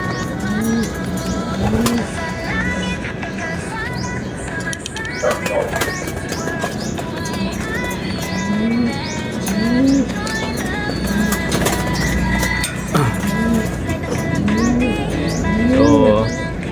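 Racing pigeons cooing repeatedly at a pigeon race amid a busy outdoor chorus of chirps and flutters, with scattered clicks and a low background rumble throughout.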